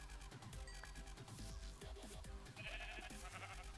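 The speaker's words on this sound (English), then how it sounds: "Did you see a sheep?" A sheep in a tornado survival video game bleats repeatedly in short wavering calls, faint and low in level, with no talk over it.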